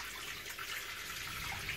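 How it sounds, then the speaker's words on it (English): Water runs from a shower head in the shower of a cruise boat, a steady close hiss of spray and splashing that continues without a break. "works pretty much like a normal shower head."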